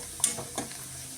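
Onions frying in a pan until golden, a soft sizzle with a couple of stirring scrapes and a brief clink near the start, quiet and close with no talk.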